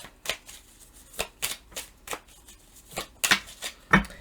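Tarot cards being shuffled nearby in a series of quick riffling bursts at an uneven rhythm, with occasional sharper snaps.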